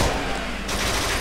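Rapid gunfire in the video game Kane & Lynch 2: Dog Days, a loud dense burst of shots lasting about a second.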